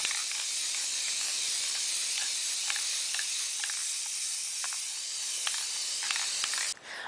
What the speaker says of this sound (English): Now simply spray paint the top of your tray.